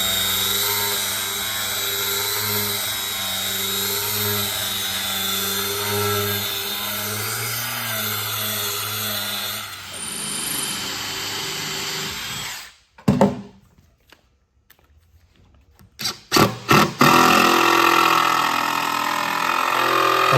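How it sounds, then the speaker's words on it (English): A 4-inch DeWalt angle grinder fitted with a flap wheel sands wooden boards with a loud, steady high whine that then cuts out, followed by short stop-start bursts of grinding. "I'm hitting these boards with a 4-inch Dewalt angle grinder with a flap wheel on it."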